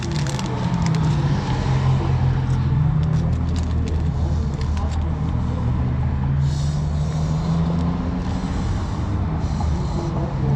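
Street traffic beside a Chicago train platform makes a steady, loud roar of passing vehicles that fills the whole stretch without a break.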